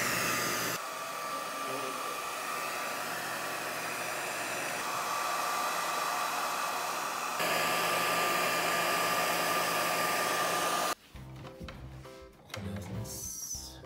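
A hair dryer blows steadily and close by, drying Aquabeads craft beads, its whir holding at an even level for about eleven seconds before cutting off abruptly, followed by brief rustling and handling noises.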